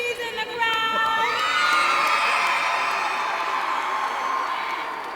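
A crowd of supporters at a Weslaco Lady Panthers softball celebration cheers and whoops loudly, a sustained roar with high shouts that swells and then slowly fades.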